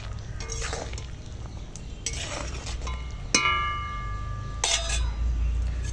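Mango jhol chutney bubbles in a pot while a metal spoon stirs and clinks against the sides, a few sharp ringing knocks over a low steady simmer.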